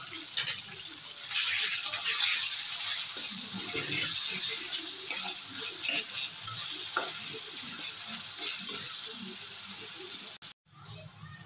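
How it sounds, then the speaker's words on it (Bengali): Onion paste goes into a pan of ginger and garlic frying in oil, giving a loud, steady sizzle with stirring scrapes throughout, then a brief pause and a fresh burst of frying at the end. "এবারে দিয়ে দেবো পেঁয়াজ বাটা।"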